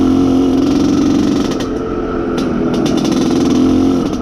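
An Izh Planeta Sport motorcycle putters along a muddy forest footpath at low throttle, its engine a steady close-up drone with slight rises and dips, no talking over it.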